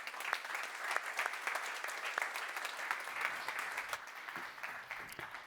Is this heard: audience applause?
yes